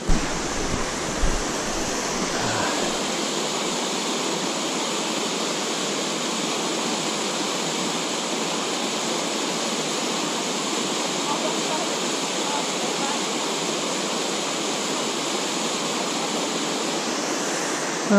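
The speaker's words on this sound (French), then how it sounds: "le ruisseau coule dedans" A stream rushes through broken rock in the Canyon des portes de l'enfer at St-Narcisse-de-Rimouski, a loud steady roar of water; a few brief sounds open it, then the flow continues unbroken.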